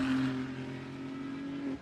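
A Ferrari Challenge race car at Suzuka accelerates under throttle during a race, its engine a loud, steady, high-pitched drone that holds across the whole moment and rises slightly near the end.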